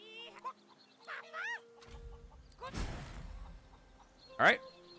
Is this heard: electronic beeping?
no